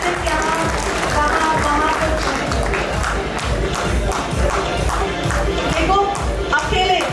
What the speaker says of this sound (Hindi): जोरदार तालियां हो जाए अनिल जी के लिए।